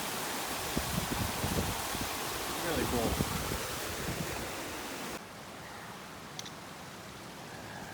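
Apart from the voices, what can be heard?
fire hose waterfalls in the Rockies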